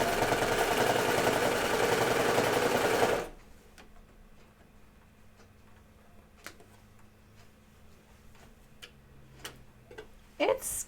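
Sewing machine stitching Hudson pants, a dense, loud rapid run for about three seconds that then stops, followed by quiet handling clicks and ticks.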